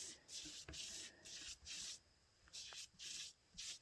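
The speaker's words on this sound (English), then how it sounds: "So I'm going to lay down a good coat of stain." A cloth rubs stain onto a carved wooden sign in repeated scrubbing strokes, close and fairly quiet, with brief knocks between passes.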